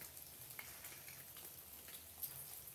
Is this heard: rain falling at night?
yes